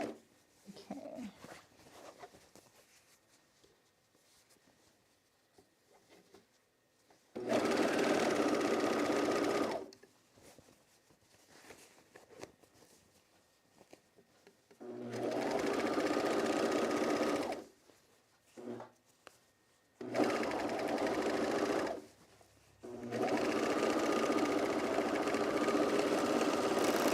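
A sewing machine stitching a pants seam, run by a foot pedal, whirs in four sustained bursts of a few seconds each, loud and close, separated by quieter pauses with faint handling sounds.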